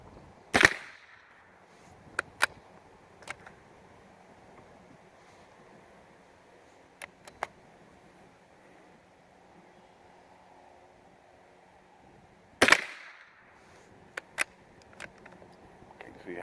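Russian high-velocity .22 rifle ammunition fired outdoors, two sharp cracks about twelve seconds apart, each followed by small clicks and clatter of the rifle action against a quiet background hiss.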